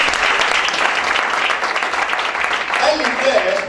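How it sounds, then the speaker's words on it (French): A live audience cheers and applauds loudly and continuously, a dense wash of clapping with voices mixed in that holds steady throughout. "Ça vous aide, vous acclamez très fort."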